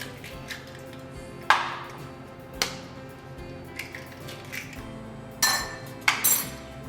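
Eggs cracked against a bowl's rim at close range, with several sharp, separate taps and clinks spaced over a few seconds and then a quick double knock near the end, with no talk.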